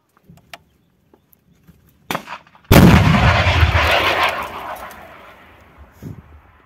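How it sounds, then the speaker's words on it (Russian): A Stugna anti-tank guided missile fires in the field with one sudden, loud booming launch blast that roars and trails off over several seconds, after a few faint clicks and a sharp knock. "Внимание, выстрел!"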